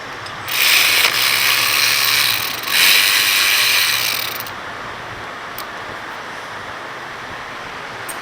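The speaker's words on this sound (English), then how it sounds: "Now we're going to take a 7mm Allen head. Take your slide bolts off." A ratchet fitted with a 7mm Allen socket loosens brake caliper slide bolts on a Ford Fusion, giving two loud bursts of rapid clicking close up, then quieter mechanical noise, with no talking.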